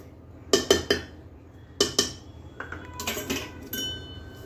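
Vanilla custard cake batter is whisked in a bowl: close, irregular metallic clinks and taps of the whisk against the bowl, some in quick pairs, with softer scraping between and no talk.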